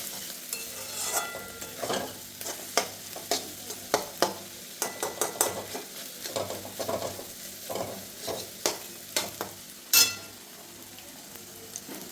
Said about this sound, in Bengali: এটা একটু ভাজা হয়ে গেলে এর মধ্যে আমি চাউমিনটা দিয়ে দেবো